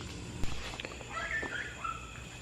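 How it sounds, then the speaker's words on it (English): Outdoors, a dog gives a few faint, distant barks and whines against quiet ambient noise. One sharp knock sounds near the start. "old Tater out there barking."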